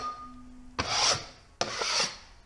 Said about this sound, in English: scrape out or just go over it to get any loose particles of joint compound or any boogers